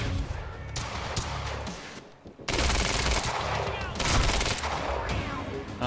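Rapid, loud gunfire from several weapons in the Quantum Break video game, with dense bursts and a brief lull before heavy shooting resumes, with some talk mixed in.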